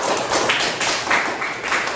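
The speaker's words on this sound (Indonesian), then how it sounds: "Tepuk tangan dulu untuk kita semua" Schoolchildren in a classroom clapping together, a dense, continuous patter of hands close by, filling the room at a steady level without pause.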